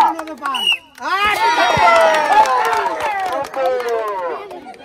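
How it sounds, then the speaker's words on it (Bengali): At a village fun game contest, a crowd claps and cheers loudly for several seconds after a brief voice, with shouts and whistles mixed into the steady applause. "তার জন্য একটা তালি হয়ে যাক"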